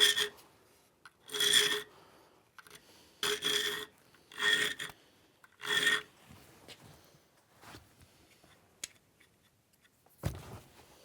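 A hand file rasps at the choil of a steel knife blade in about five distinct back-and-forth strokes, each a gritty scrape with short quiet gaps between, fairly faint in a quiet room, followed by a few light clicks and one dull knock.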